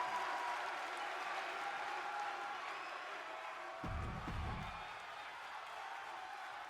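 Crowd at a wrestling event in Miami cheering and applauding, a steady distant wash of noise with a brief low rumble partway through, faint overall.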